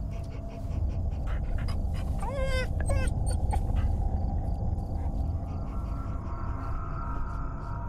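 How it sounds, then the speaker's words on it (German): A dog whimpers and pants in the horror game Fears to Fathom, with a couple of high rising whines mid-clip over steady breathy panting and a low background rumble, close and moderately loud. "Hier, wer ist ein guter Hund?"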